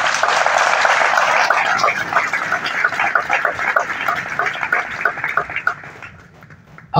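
Audience at an official youth-assembly launch in Gabon applauding in a dense sustained burst of many hands, thinning and fading toward the end before a sudden sound at the close.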